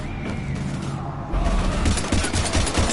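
Sustained gunfire in Mass Effect 3 combat, a rapid stream of shots that thickens into a dense, loud barrage with booming hits.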